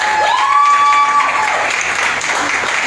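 Steady, full applause from an award ceremony audience honouring a young role model, continuous clapping throughout with a held tone over it early on.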